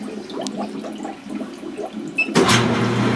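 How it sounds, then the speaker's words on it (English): Commercial frozen yogurt machine on its clean cycle, water rushing through the hoppers into the freezing cylinder, starting as faint bubbling and dripping and then bursting into a loud, steady flow. "that's going to start flushing the water through the hoppers into the cylinder"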